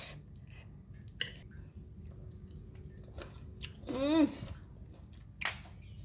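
Close, soft chewing of a Thai corn salad dressed with lime juice, quiet wet mouth sounds with a brief hum of voice partway through.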